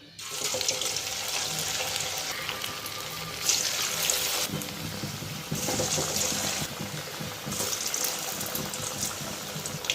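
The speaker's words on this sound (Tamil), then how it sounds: "இப்போ நம்ம பொரித்து எடுத்துக்கலாம். இப்போ நம்ம ஒவ்வொன்றா போட்டுக்கலாம்." Potato hash browns fry in hot oil, a continuous sizzle and crackle close by that swells in loud bursts as pieces go in, with no talk.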